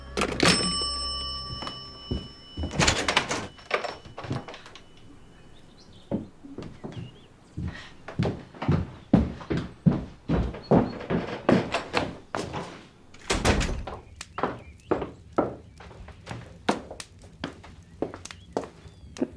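Door sounds in a period mystery drama interior: a run of knocks and thuds with a sharp slam near the start, repeated irregular thumps through the middle, fairly close and loud, no talk.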